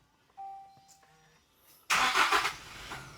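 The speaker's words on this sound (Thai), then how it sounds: "สตาร์ทเครื่องยนต์กันครับ" A few soft electronic beeps, then a 2021 Toyota Fortuner 2.4's engine cranks from a push-button start and catches in one quick start, settling into a steady idle nearby.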